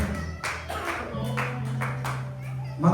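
A church congregation claps in a steady rhythm of several even beats while a voice speaks over the clapping and a low hum sustains underneath.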